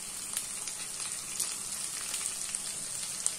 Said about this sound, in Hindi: इस तरह आप सारा चिकन फ्राई कर सकते हैं